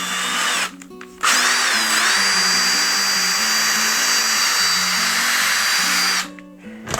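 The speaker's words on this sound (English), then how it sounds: "So I'm just going to drill one hole." A power drill with a 7/32 drill bit whirs briefly, then bores a hole in a snowshoe binding steadily at full speed for about five seconds, loud and close, before winding down.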